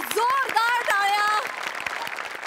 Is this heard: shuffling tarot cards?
no